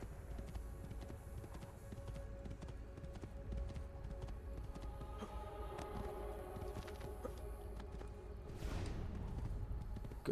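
Horse hooves clip-clop in the Assassin's Creed 2 video game, a soft repeated patter beneath a steady ambient hum, with a brief louder whoosh near the end and no talking.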